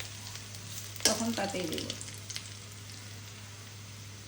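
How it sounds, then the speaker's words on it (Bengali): Chopped onion sizzling in hot oil in a pan, a soft steady fry with a brief louder crackle and stir near the start, faint and close, with a short line of speech over it. "তেলটা যখন গরম হলো তখন তার মাঝে অল্প একটু পেঁয়াজ কুচি দিয়েছি। এখন পেঁয়াজটা যখন একটু লাল লাল ভাজা হবে"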